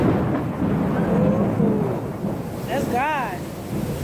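A thunderstorm during Hurricane Irma in Florida gives a loud, steady low rumble of rain and wind, with a brief rising whine partway through.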